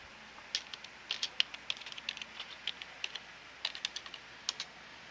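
Typing on a computer keyboard while logging in to a server machine as administrator: irregular bursts of crisp key clicks, close and fairly quiet, with no talking.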